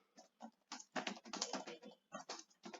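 Quick, light keystrokes on a computer keyboard come in short bursts and irregular runs, close and faint, with no one talking.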